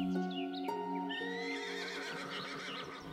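A horse on a mountain farm whinnies loudly and close, its high wavering neigh rising and falling for a few seconds, with other tonal calls layered in.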